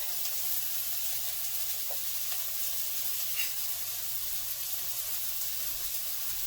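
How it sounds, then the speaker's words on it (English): Sauce for keto chicken cordon bleu simmers steadily in a skillet, a soft continuous sizzle and bubbling hiss held at an even, moderate level throughout, with no talking. "So just keep it on simmer while you finish everything else up."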